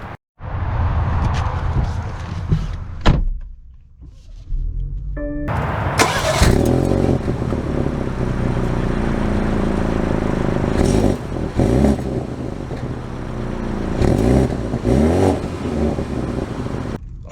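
A 2023 BMW X4 xDrive30i starts with a brief crank and catch, settles into a steady idle, then pulls away with rising engine revs and a couple of louder accelerating surges, heard from inside the cabin.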